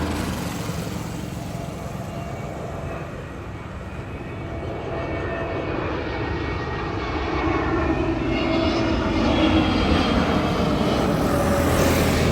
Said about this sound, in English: capture the incoming Air India flight from Delhi